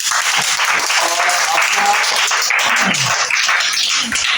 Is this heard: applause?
yes